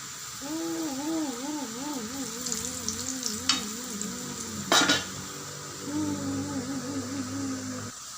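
Bananas fry in hot oil with a steady sizzle, broken by two sharp metal utensil clanks against the pan, while a voice hums or sings a wavering tune over the cooking.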